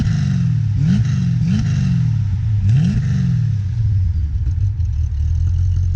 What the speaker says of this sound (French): Je t'en prie, fais vroom vroom,